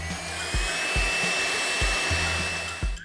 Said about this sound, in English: it didn't really sound as loud as some of my other vacuum cleaners